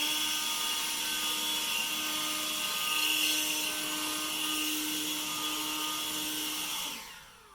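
An Ozito 18V brushless jet blower runs at full power on freshly cut grass, a steady high-pitched whine with a constant airy roar that holds for several seconds before spinning down at the end.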